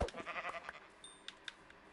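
Sheep in the Minecraft video game bleating, a couple of short bleats at the start followed by fainter, brief calls, with no talking.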